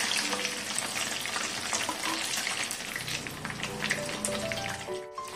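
Chicken lollipops fry loudly in hot oil with a dense, crackling bubbling that barely lets up, close up and with no talk.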